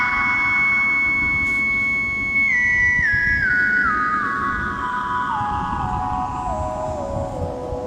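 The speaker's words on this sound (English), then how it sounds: "it's making a very interesting whistling sound" A machine hooked up to a tree gives off a high, sustained electronic whistle that steps gradually downward in pitch, running alone over a constant background hiss.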